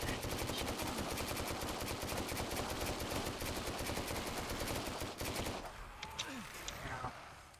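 Rapid automatic gunfire rattles nonstop in the Dead Frontier 2 video game, loud dense bursts that cut out near the end, leaving a few faint clicks and a brief muffled voice.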